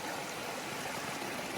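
Brook water flowing steadily along the Appalachian Trail near Kinsman, a continuous close rushing and babbling with no voices.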